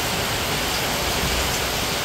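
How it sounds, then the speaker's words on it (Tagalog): Heavy rain pours down in a dense, unbroken roar, loud and steady throughout with no voices. "Lakas po ng ulan."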